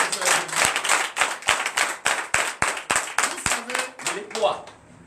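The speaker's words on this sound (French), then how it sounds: "Donnez encore plus d'acclamation" Sunday church congregation clapping together in a strong, even rhythm, a run of sharp, loud claps from many hands that fades out at the end, with voices rising over it.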